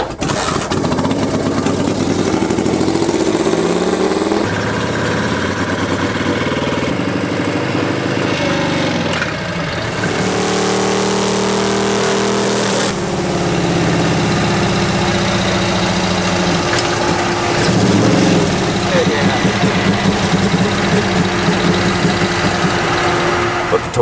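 A 1942 WW2 Harley Davidson restored from a junkyard runs on a dyno, its engine loud and close, revving and shifting pitch in stages with a sharp change midway, faint voices underneath.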